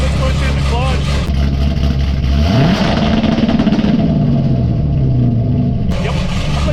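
A car engine held against a two-step launch limiter set around 3,200 rpm with the clutch pushed in: a loud, steady low drone that shifts partway through into a wavering, pulsing rev, close and continuous throughout.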